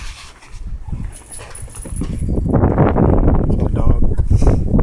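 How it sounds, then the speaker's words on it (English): A dog barks and whimpers outdoors beside a yard where old Plymouth Barracudas sit, with short sounds rising over steady wind noise on the microphone. "Dog."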